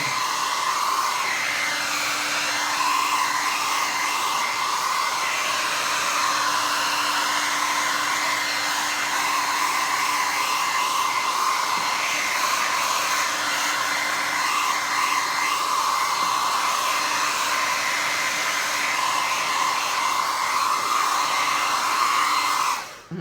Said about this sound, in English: starting to trust the blow dryer a little bit